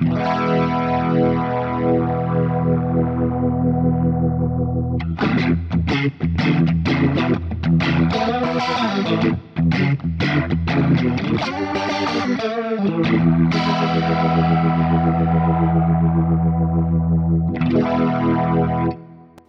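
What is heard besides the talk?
Leslie rotary speaker effect ramping up on Fractal FM9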